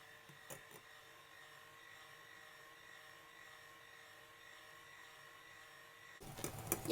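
An electric hand mixer beats egg whites for a Castella sponge cake on its lowest speed, giving a steady, even motor whir that runs throughout and swells louder in the final second.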